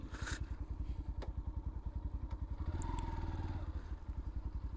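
Yamaha FZ-V4 motorcycle engine running close by, a steady rapid pulsing exhaust note that swells slightly in the middle with a few clicks and clatters, no talk.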